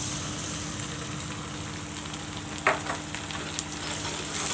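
Masala paste of coriander, cumin, red and green chilies frying with golden-brown onions for a coriander mutton curry, giving a steady close sizzle with a brief stirring scrape partway through and no talk.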